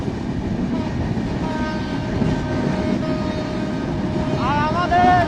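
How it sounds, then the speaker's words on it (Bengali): The Panchagarh Express passes through Akkelpur railway station, its wheels rumbling loudly and continuously up close. Horn-like tones sound near the end. "রাইট নাও আমরা থ্রোপাস করতেছি আক্কেলপুর রেলওয়ে স্টেশন"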